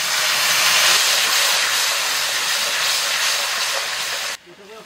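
Dried red chilli and nigella seeds hit hot oil in a home kitchen, giving a loud, steady close-up sizzle and hiss that holds for over four seconds, then cuts off sharply to quiet.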